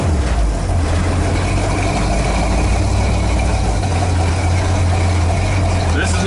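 A 1977 Dodge Ramcharger engine idles close by with a loud, steady, low rumble that continues unbroken throughout.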